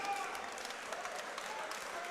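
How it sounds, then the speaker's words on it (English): Crowd applause fills a cage-fighting venue in Oshawa, Ontario after a BTC 25 bout ends by rear naked choke, a steady wash of clapping from a distance with an announcer talking over it. "Put a big round of applause together for both of the fighters in the center of the cage"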